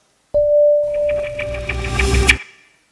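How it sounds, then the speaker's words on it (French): Synthetic sound design for an electric car accelerating from 0 to 5 km/h: a clean sustained tone, then a busier electronic texture with rapid pulsing ticks that swells and ends with a sharp bright burst, loud and close. "c'est l'accélération de 0 à 5 km/h d'une voiture électrique"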